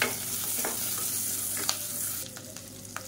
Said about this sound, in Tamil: இப்போ எல்லாமே லேசாக வதங்கிடுச்சு